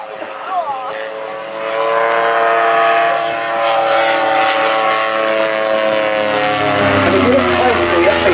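An Ego canard light aircraft flies at the Old Warden LAA airshow, its propeller engine a loud, steady harmonic drone that shifts slightly in pitch as it passes, with a commentator speaking over it.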